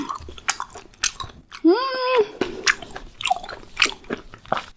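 Chewing and biting on beef intestine (daechang) in a spicy mukbang meal, close and wet with soft crunchy bites in an irregular rhythm, interrupted by a brief voiced hum in the middle.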